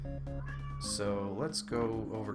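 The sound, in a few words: pet cat named Sushi meowing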